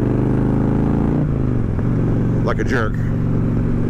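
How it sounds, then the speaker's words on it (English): A heavy 900-pound motorcycle engine drones steadily while riding, its low hum continuous and close throughout, with a person talking over it. "It's a good riding, good handling bike with more power than you ever really need on a 900 pound machine."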